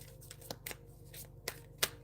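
Tarot cards being shuffled by hand, a few quick crisp riffles and taps spaced irregularly over a quiet background hum.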